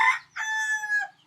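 A rooster crows close by in a rural Thai village, one clear drawn-out cock-a-doodle-doo with a rising opening burst and a long sustained call, heard alone without talk.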